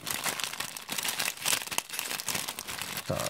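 A thin plastic packaging bag around an F-16 Fighting Falcon wind-up toy plane crinkles and tears close by, a continuous dense rustle with sharp crackles throughout.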